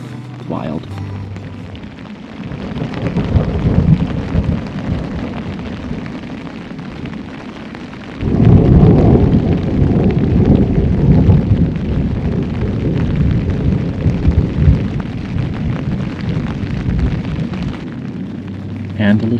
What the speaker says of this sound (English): when you're like this close to the lightning and the thunder, it just feels so different